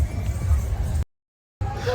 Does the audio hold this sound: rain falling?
no